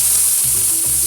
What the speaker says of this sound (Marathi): आपण याच्यामध्ये फोडणीला टाकतो